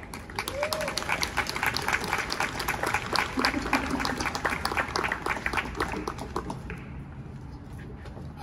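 An outdoor crowd applauds steadily at an affordable housing grand opening ceremony in Anaheim, with dense, moderately distant clapping that thins out near the end.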